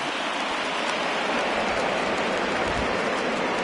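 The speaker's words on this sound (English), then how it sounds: "the conditions aren't ideal with the rain coming down" Steady rain pours down on a baseball field in a video game, a dense, even hiss of falling drops that continues without break and stands alone with no voices.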